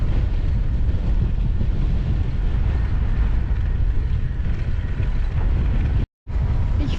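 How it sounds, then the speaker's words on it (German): Strong headwind buffets the microphone of a cyclist riding westward in stormy weather, a dense, continuous low roar and rumble that fills the clip, with a brief cut to silence near the end. "Es geht voll gegen den Wind"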